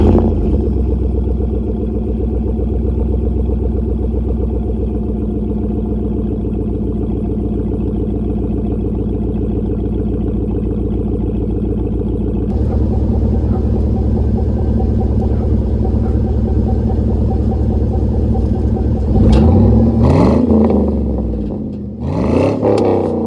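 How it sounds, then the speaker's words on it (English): A GMC Sierra pickup with a 5.3L V8 and aftermarket exhaust idles with a steady, loud low rumble, then a sharper burble joins partway through, ending in two quick throttle blips that rise and fall. "So this is the exhaust stock, or well, not stock, but the exhaust as it sits."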